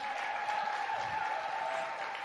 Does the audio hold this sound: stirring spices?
no